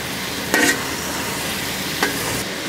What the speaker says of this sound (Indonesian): Kita pastikan cili kering ni betul-betul masak.